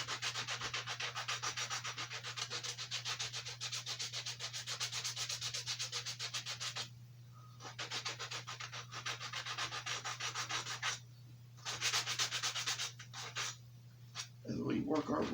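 Hand sanding of wooden horses with coarse 40-grit sandpaper, a close, continuous rasping scrape in rapid back-and-forth strokes, broken by a few short pauses near the end.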